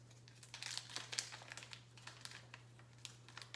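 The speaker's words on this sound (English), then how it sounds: "I'm gonna go ahead and cut the oxygen absorber open." Oxygen absorber packet for rice and bean food storage being cut open and handled, faint close crinkling and rustling with scattered crisp ticks over low hum.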